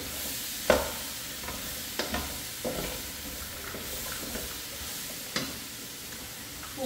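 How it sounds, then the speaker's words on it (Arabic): Pieces of red pumpkin, potato and carrot are stirred in a cooking pot, with a soft sizzle under scattered scraping knocks of the spoon, close and without speech. "هنا انا نحرك هادشي كامل هنا"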